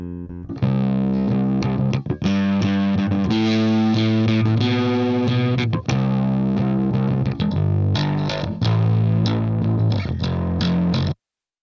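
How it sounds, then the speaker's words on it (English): Bass guitar played through a DC Vintage amp sim with cranked gain and treble, giving loud, gritty distorted notes in a steady riff that runs continuously before stopping abruptly. "what I like about bass distortion like this is it helps the bass blend with the guitars"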